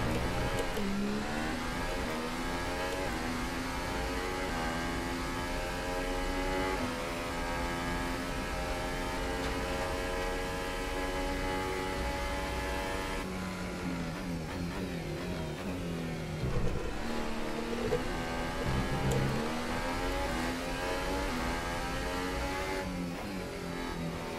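Formula One race car engine in the F1 2018 racing game at Monza, a loud continuous high-pitched whine rising and falling through gear changes, with a dip and rebuild around braking for a chicane.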